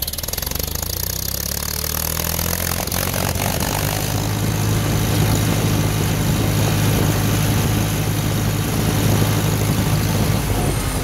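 A Farmall M tractor with an M&W 9-speed idles in third high gear with a steady low rumble and chug, constant and fairly loud, with wind-like noise over it.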